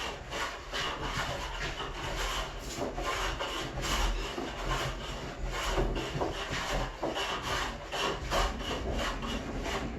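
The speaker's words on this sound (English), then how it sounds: "This is what I will do most of my finished planing with, because you can set it real super fine on the cut" A hand plane shaves wood on a small countertop, giving a steady, close rasping hiss in overlapping strokes that runs nearly without a break, with no voices.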